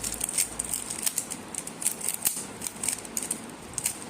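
A 3x3 Rubik's cube being shuffled, rapid plastic clicks and ticks from the layers turning in quick irregular bursts, close and fairly faint.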